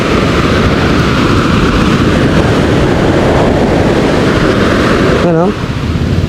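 Large sea waves rush around a boat, a loud, constant roar with heavy wind buffeting close to the microphone, and a short vocal sound near the end.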